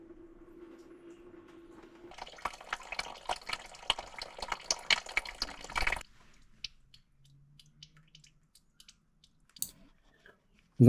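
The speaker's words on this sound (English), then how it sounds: "we open the drain plug slowly and allow the coolant to drain completely" Coolant gushes from the radiator drain plug of a Hyundai i30 with a spattering, crackly splash for about four seconds, then cuts off, leaving quiet scattered drips and a sharp knock at the end.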